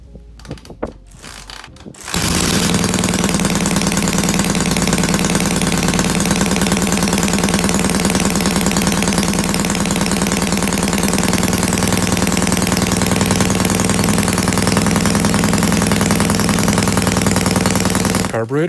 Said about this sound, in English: Carburetors do not respond to idle adjustment